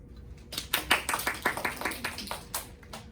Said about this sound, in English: So I think Chloe deserves a round of applause.